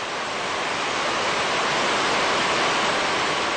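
Iraqi Mi-28 Havoc military helicopter in flight over northern Iraq near Mosul: a steady, loud, dense roar that fills the cabin without letup, with no voices.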